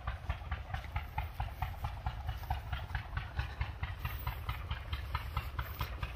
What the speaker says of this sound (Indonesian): Sekarang kita bunyikan itu, nyalakan mesin untuk air.